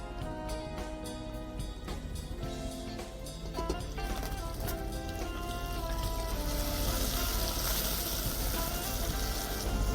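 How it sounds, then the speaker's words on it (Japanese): Finely chopped onions sizzling loudly after going into a pan of garlic-infused oil over medium heat, a dense steady hiss that thickens and grows brighter over ten seconds, close up with no voices. "これぐらいの状態になったら玉ねぎですね、みじん切りにした玉ねぎを投入していきます"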